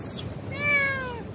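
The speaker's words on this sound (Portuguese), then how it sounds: "Gato de raça, siamês." A Siamese cat at a hotel gives a single drawn-out meow, fairly close and clear, rising and falling over about half a second against low background noise.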